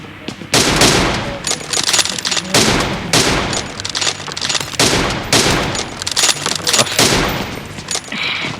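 Rapid bursts of automatic gunfire in a shooting video game face-off, loud and close, firing in repeated volleys separated by brief pauses.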